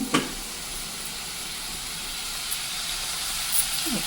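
Cumin seeds sizzle in hot oil and ghee with softened onion, a steady close hiss of frying with a few faint clinks, no talking.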